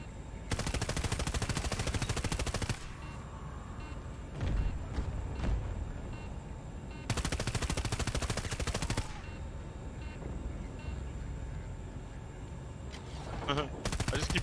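Helicopter-mounted machine gun in Battlefield 2042 firing two long, loud, continuous bursts, separated by a quieter stretch of game noise with a few scattered shots and thumps.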